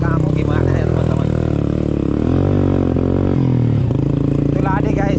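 A motorbike rides along a village road, its engine droning steadily up close with shifting pitch as it goes, and a voice talks over the ride.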